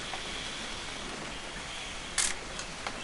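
A camera shutter clicks in the video game What Remains of Edith Finch: one short, crisp click stands out over a steady, soft hiss like rain, followed by a couple of fainter ticks.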